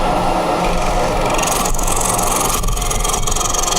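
A wood lathe spins steadily while a tool cuts a tenon into green wood, producing a continuous close scraping and rubbing sound.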